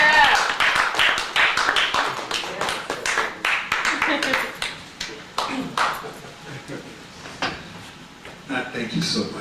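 Audience applause at a tribute event honoring Dr. Bob Law, a burst of uneven clapping with sharp individual claps, close and fairly loud, mixed with voices talking over it.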